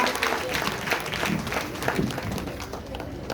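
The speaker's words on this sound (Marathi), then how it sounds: "जोरदार टाळ्या" Steady clapping from a crowd at a school prize ceremony for scholarship exam students, a dense wash of hand claps that holds at an even level throughout without pause.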